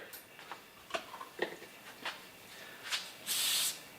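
A few light ticks and clicks are followed by a short, sharp hiss of an aerosol spray of lubricant onto brass cartridge cases, close and fairly quiet.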